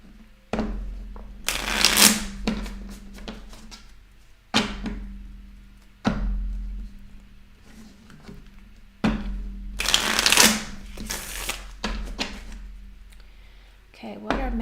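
Tarot cards shuffled in several brisk bursts, each a crisp riffling flutter lasting a second or two, close and fairly loud, with quiet pauses between them.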